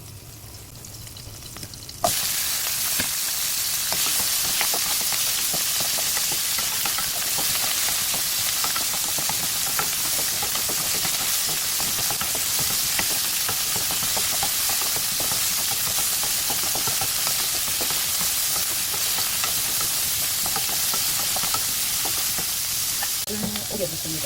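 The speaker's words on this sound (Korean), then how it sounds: "올리브 넣고 볶을게요." Burdock root stir-frying in olive oil gives a steady, loud, hissing sizzle that starts abruptly after a brief pause and holds evenly, with faint stirring near the end.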